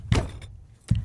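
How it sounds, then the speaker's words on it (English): Door opening as a layered sound effect in a movie trailer, heard as two short dull thuds a moment apart, close and fairly loud, with a faint rattle between them. "maybe a door opens, and you hear a..."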